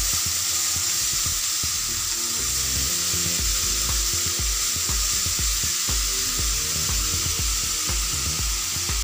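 Grated beetroot sizzles in an oil tempering while being stirred, giving a constant bright hiss close up with repeated scraping and clattering strokes of a spoon against the pan.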